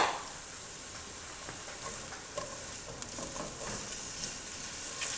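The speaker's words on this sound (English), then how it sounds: "It's still a hot pan, so you can get started right away. Give it just a second. Okay, next thing we gotta do, caramelize our onions. Get those in there." Onions sizzling and frying in a hot pan for caramelizing, a soft steady crackle with a few stirring scrapes, close and quiet, with no talking.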